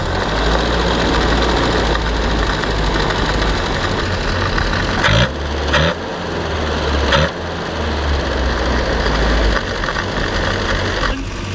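A 1976 Land Rover Series III engine runs steadily at idle close by, a continuous low burble with a few brief bumps and dips in level partway through.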